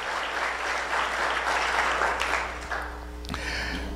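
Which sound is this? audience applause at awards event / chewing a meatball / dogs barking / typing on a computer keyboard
audience applause at awards event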